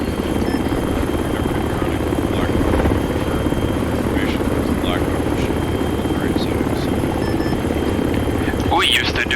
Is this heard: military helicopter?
yes